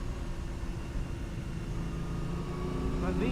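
A 1950 Ferrari 166MM Le Mans Berlinetta engine hums steadily during a double-declutch downshift, then the revs rise near the end, with someone talking over the engine.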